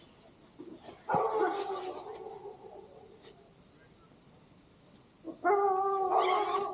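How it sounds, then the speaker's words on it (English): Dogs bark and howl in the distance, two separate bouts with a quiet pause between them, over faint outdoor background at a mountain lakeside campsite. "Neighbor's got some dogs."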